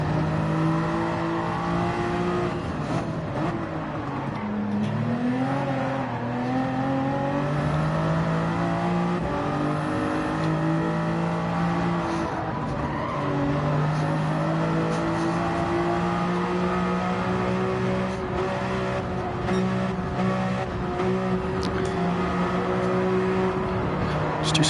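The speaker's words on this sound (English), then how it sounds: "Just gonna do a few drifts just to try warm those tires up." Car in a racing video game, drifting to warm its tires, with a loud engine note that surges and dips continuously as the throttle is worked through repeated slides.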